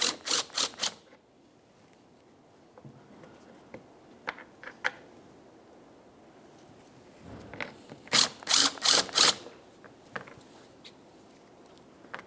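A ratchet clicks while 10mm bolts come off a license plate bracket on a 2012-2018 Nissan Altima front bumper, with quick bursts of ratcheting at the start and a louder run near the end, separated by scattered faint handling noises.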